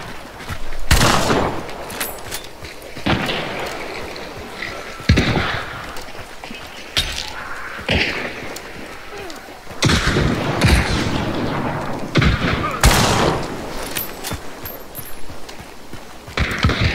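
Repeated shotgun blasts in the game Hunt: Showdown, sharp loud bangs spaced irregularly across the stretch, some clustered in quick pairs, over a rumbling game ambience.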